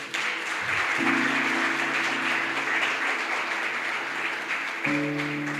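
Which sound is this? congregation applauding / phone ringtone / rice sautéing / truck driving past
congregation applauding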